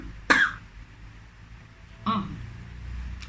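A woman coughs twice, a sharp close cough followed about two seconds later by a softer, throatier one, with a quiet low hum in between.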